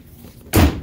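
Single door shut during a move out of a storage unit: a short, loud slam with a dull thud after a quiet moment.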